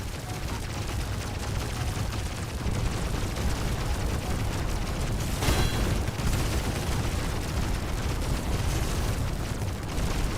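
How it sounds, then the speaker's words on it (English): An asteroid barrage slams down in the game Reality Break, a continuous rumbling roar of overlapping explosions that swells around the middle into a sharper, brighter blast before settling back into steady booming. "See the asteroid barrage?"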